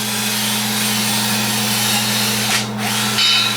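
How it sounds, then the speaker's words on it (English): A power tool deburs the freshly welded steel roll cage of a Honda Talon side-by-side, a steady high-pitched motor whine with a constant hum, briefly shifting as the tool bites and lifts off the metal, loud and near. "Just going through and getting some burrs off."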